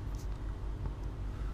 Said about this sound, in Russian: Слышите, как заработал компрессик?